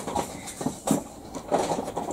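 A model train rolls along a layout with bridges, giving a close, irregular clatter of small wheels and track joints with a few sharper clicks, heard alone.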